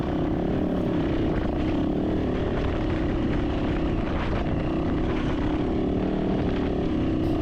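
Fierce wind roars steadily and loudly around a rider on a Jawbone bike climbing uphill toward Sugarloaf Peak, a constant low buffeting rumble with the engine droning underneath, no pauses throughout.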